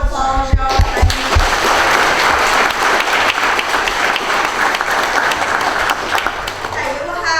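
A crowd at a county entertainment event gives loud, sustained applause that starts with a few sharp claps, swells into a dense roar of clapping and fades slightly near the end, with voices underneath.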